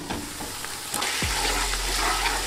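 Onions browning in a pan for lamb pilau, a dense close sizzle with stirring scrapes, joined partway through by a low steady hum underneath.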